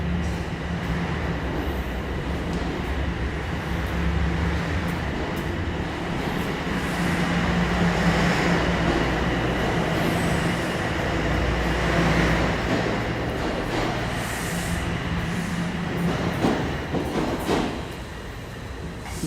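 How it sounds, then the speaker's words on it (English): A train rolls into a Toronto station with a steady rumbling roar and faint rail clatter, loud and continuous for nearly twenty seconds before easing slightly at the end, with no voices. "Oh, another train is rolling in."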